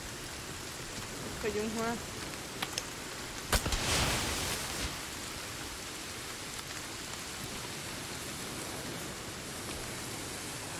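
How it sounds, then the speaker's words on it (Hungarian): Steady rain falls in the Sons of the Forest survival game, a constant soft hiss with a brief louder burst, while someone talks over it. "Elkezdett még esni is az eső?"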